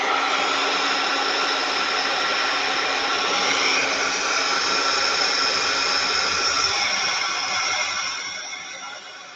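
A dryer blows steadily to dry watercolor paint, a close, loud, continuous airy whoosh with a motor hum that holds level for several seconds, then fades away toward the end.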